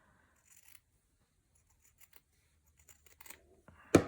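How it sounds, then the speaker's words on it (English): Scissors trim the edge of a handmade boho fabric phone pouch with a few faint, sparse snips in a quiet room, ending in one louder close cut. "this side I'm going to trim a little bit"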